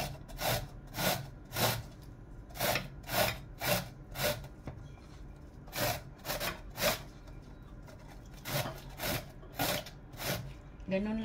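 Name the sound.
grating with a kitchen grater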